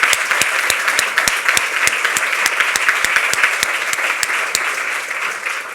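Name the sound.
audience applause at a presentation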